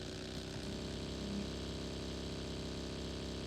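A car engine in the mobile game BGMI drones steadily and loudly throughout, a continuous mid-pitched motor hum with no breaks.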